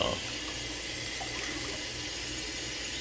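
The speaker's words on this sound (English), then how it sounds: "Get cold water." Cold water runs from a kitchen tap in a steady, full, continuous rush for the whole stretch, close and fairly loud, with no breaks.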